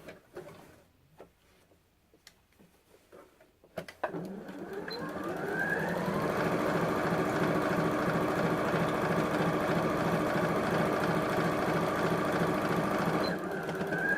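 Sewing machine stitching a curvy lined purse, starting after a few soft handling clicks and then running in a steady close mechanical whir for about nine seconds before stopping.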